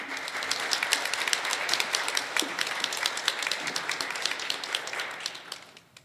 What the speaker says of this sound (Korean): 여러분 큰 박수로 환영해 주시면 대단히 감사하겠습니다